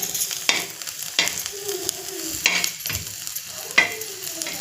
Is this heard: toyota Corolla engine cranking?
no